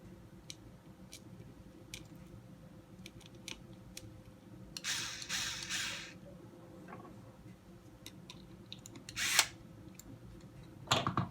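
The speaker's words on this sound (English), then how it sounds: "Now we'll install the trailing arm again, a 14mm screw at the chassis side with our lock nut on the back." A power driver turns a 14mm screw into the chassis of an Axial SCX10.2 RC crawler while fitting the trailing arm, giving a short whirring burst and later brief buzzes among scattered small clicks, close and fairly quiet.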